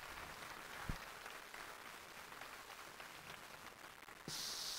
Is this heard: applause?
yes